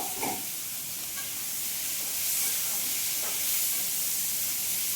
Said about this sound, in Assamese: এই কাটি লোৱা আলুখিনি ভাজিছোঁ